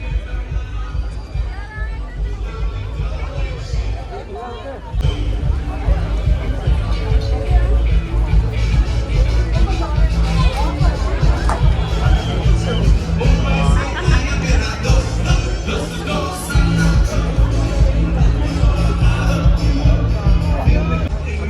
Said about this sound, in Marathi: आता तर खूप गर्दी झाली आहे बघा.